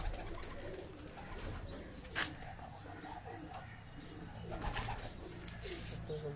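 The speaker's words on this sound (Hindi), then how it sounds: "ये दोस्तों एक और कबूतर मैं आपको शो करवा रहा हूँ।" Pigeons on a Karachi rooftop coo softly in low, repeated calls, faint and spread across the scene, with a sharp brief noise partway through.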